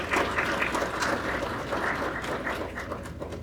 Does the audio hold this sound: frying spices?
no